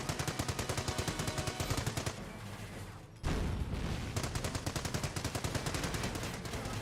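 Rapid .30 cal machine gun bursts in Company of Heroes, a World War II strategy game: loud, rhythmic rattling fire, a brief lull near the middle, then another sustained stream of shots.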